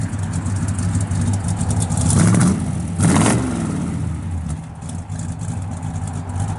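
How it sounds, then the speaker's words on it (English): A 1966 Chevrolet Chevelle SS 396 with a built 396 V8 and Holley four-barrel revs twice in quick succession through its exhaust, each blip rising over a loud steady idle. "Sounds real good out the exhaust."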